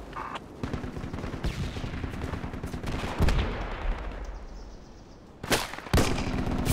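Sustained gunfire in the Vietnam-era shooter Project Reality on the Charlies Point map, rattling automatic bursts and sharp single cracks, loud and near, with a short quieter stretch before heavy shots resume.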